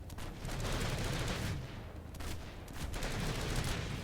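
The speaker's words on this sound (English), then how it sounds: "I'm going to dump about 10 bullets here and not counter the recoil" A single burst of about ten rounds from an automatic weapon in Planetside 2, fused into a dense, continuous roar of rapid shots lasting a few seconds with a brief dip midway.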